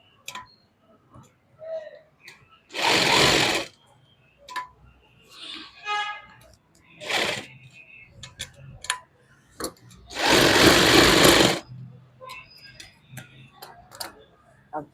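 An electric sewing machine stitches a lined suit in two short, loud whirring runs, separated by quieter handling clicks and small taps at a tailoring table.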